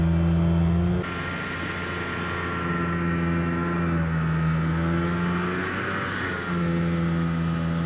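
A two-cylinder two-stroke tracked mini tank runs off-road, its engine droning loud and close with a sharp drop at the start, then a steady buzzing hum that rises and falls in pitch.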